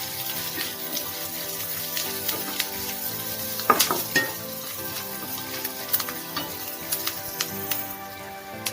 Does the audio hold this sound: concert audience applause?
no